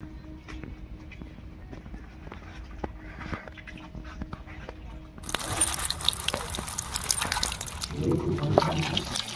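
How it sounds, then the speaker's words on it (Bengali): Fresh fish being rinsed clean: quiet handling and clicks at first, then a louder burst of running, splashing water that continues to the end. "বন্ধুরা, ভালো করে মাছটাকে ধুয়ে নিই পরিষ্কার করে।"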